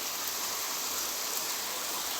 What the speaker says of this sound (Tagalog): Siya namang ulan.